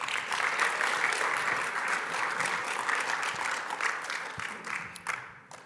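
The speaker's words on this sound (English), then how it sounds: "Give a round of applause." Conference audience applauding for event sponsors, a steady, dense round of clapping filling the room that tapers off near the end.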